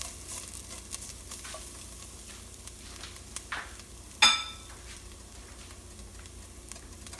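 Lemongrass kroeung paste being stirred as it fries in a pan, a quiet steady sizzle with faint scraping throughout and one brief sharp clatter midway.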